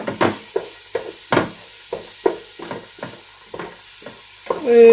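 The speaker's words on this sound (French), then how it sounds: "on va faire revenir d'abord donc l'oignon et les carottes." Chopped onion and carrots sautéing in a pot for a vegetable and oat soup, a regular series of about ten spoon scrapes and knocks over a light sizzle, near and distinct.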